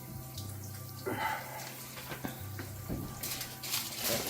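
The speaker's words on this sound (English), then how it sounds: "letting the water, excess water" Excess water drains and splashes out of a pan holding a whole turkey, a soft, uneven trickle with brief gurgles and a low background hum.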